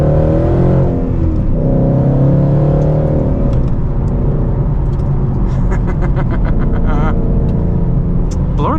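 A supercharged 2014 Roush Stage 3 Mustang engine runs loud and close, its pitch climbing as it accelerates, with a steady mechanical whir and rattling underneath.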